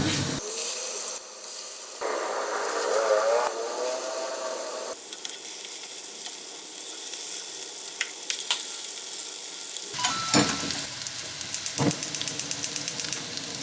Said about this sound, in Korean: 어제 반죽해놨던 동그랑땡을 부어줄게요